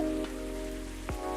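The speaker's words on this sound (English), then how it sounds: "It's pouring rain again." Heavy rain pouring in the video game Coffee Talk, a steady hiss of rainfall over a low hum and tonal music, with two brief swooshing sweeps.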